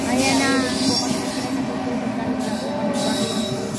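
A long passenger train rolls past at a station in Milan, Italy, with continuous loud rumble, wheel and rail noise and intermittent high squealing, steady throughout.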